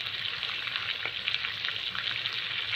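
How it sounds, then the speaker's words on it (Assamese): Chicken masala with red chili and garam masala sizzling in a pan, a dense, steady crackling fry close by, with an occasional stir and no talking. "এতিয়া আকৌ অকণমান ভাজিব লাগিব"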